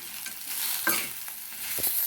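Spicy brinjal fry is stirred in a pan, with a quiet sizzle and a few scraping, clattering spatula strokes close by, and no talking.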